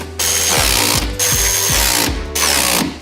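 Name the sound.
tightening damper bolts on car suspension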